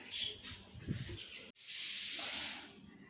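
Garden plants are watered with a hissing spray: a softer rush, a brief break, then a louder, sustained spray that fades out.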